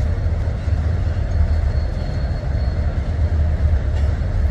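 Two freight trains running side by side in the Midwest, a loud, close, continuous low rumble with rolling rail clatter and wagon noise that holds steady throughout.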